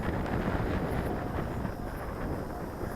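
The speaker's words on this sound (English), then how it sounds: "That wind is hitting it really hard" Strong outdoor wind of about 12 miles per hour buffets the microphone during an RC airplane flight, a constant loud low rumble with faint engine whine behind it.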